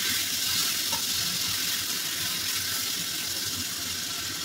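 Tomatoes dropped into hot tempered oil for pickle, giving a continuous dense sizzle and frying hiss, loud and steady throughout with no speech.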